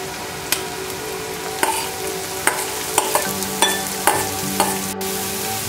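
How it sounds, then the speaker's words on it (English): Cauliflower rice stirred in a hot pan with browned onions and garlic, a steady sizzle punctuated by regular scraping clinks of the spoon about every half second, close and alone. "Now I'll add in my cauliflower rice."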